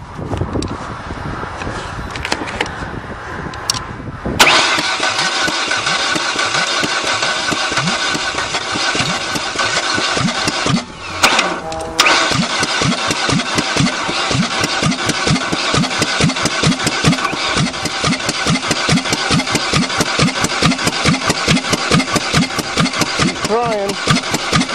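A Toyota Topaz crushed by a 20-ton bulldozer cranks and runs roughly after quick start is sprayed in the intake, giving a loud, steady, uneven chugging engine drone with a brief dip partway, as a voice talks over it.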